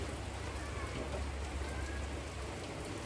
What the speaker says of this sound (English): It's raining, as you can see.